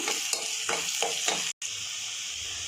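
Onion sizzles in a pan with cardamom powder, a steady bright hiss broken by several stirring scrapes and a brief dropout, with no talking.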